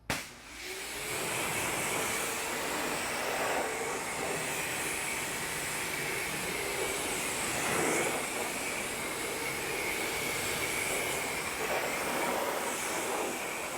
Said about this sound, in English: for now, we're gonna rinse it down and continue moving forward